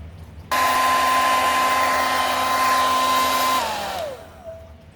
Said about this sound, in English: Maybe I use a little blow dryer.